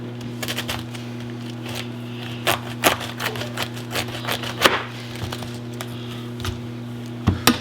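A kitchen knife cuts through half a head of cabbage on a board with a series of sharp, close chops and crunches over a steady low hum.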